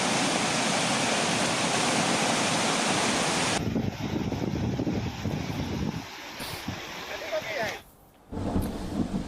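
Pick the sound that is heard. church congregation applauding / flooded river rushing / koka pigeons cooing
flooded river rushing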